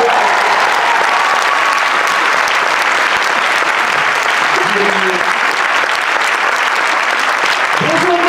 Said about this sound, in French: Un tonnerre d'applaudissements pour Gilles Pop.